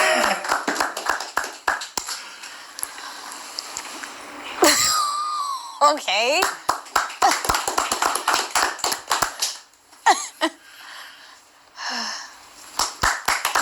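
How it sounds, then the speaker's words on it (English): Sharp hand claps pop out in scattered bursts, some in quick clusters, alongside a person talking and other short breathy vocal noises, fairly close and loud. "Why do I clap 3 times?"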